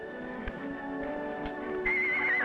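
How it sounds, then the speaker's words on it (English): A horse named in a 1950s western series gives a drawn-out whinny over a steady background of soft music and ambience, its tone rising and wavering toward the end of the clip. "You know, Ellie, I do believe that horse whinnies with a Southern drawl."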